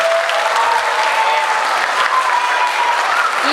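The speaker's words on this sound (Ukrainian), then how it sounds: "Зустрімо оплесками." Steady applause from a school crowd welcoming first-grade pupils at a Day of Knowledge ceremony, dense and loud throughout with a faint background voice.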